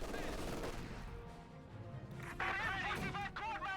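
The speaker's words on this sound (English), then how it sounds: "Almost got the gun wiped here with the 50 cal mounted on the front of the half track." Bursts of automatic fire from a .50 cal machine gun mounted on the front of a half-track in the Company of Heroes 2 game, rattling steadily under dense game noise with a louder flurry of shots near the end.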